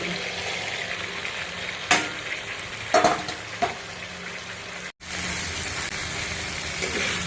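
Potatoes fry in a little oil left after spices for a katla fish curry, giving a soft, steady sizzle with a few sharper stirring scrapes and a brief dropout midway.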